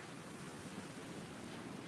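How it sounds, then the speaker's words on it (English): Water rushes steadily in the background outdoors, a soft continuous wash of surf-like noise with faint wind, low in level and unchanging, with no one speaking. "Love the sound of the water in the background."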